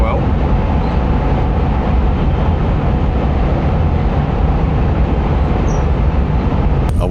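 Steady, loud broadband rumble and rushing roar inside a high-speed bullet train cabin at 310 km/h on a snowy route, a continuous smooth drone with no talk, holding even for the whole stretch.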